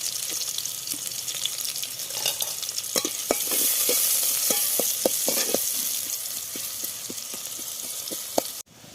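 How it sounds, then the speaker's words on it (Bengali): Onions sizzle in hot oil with a steady hiss, punctuated by sharp clicks and pops from stirring, close by. "পেঁয়াজটা হালকা করে ভাজবো"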